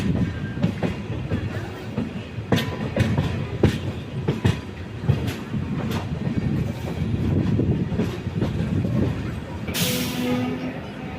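Kollam-Tirupati biweekly express passenger train running on the rails, a steady loud rumble with rhythmic clickety-clack wheel thumps and a brief hiss near the end, no talking.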